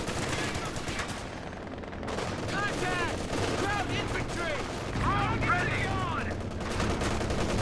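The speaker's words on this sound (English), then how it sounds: "Machine gun there suppressing, overs ripping in as well." Rapid machine-gun bursts and rattling gunfire from Company of Heroes 2 fill the battlefield, dense and continuous, with bursts of fire overlapping throughout.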